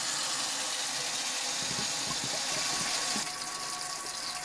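Tap water pours steadily into a sink and drains away after a clog was cleared with an electrolyte drain cleaner. The rushing is continuous and close, with a slight shift in tone near the end and no voices.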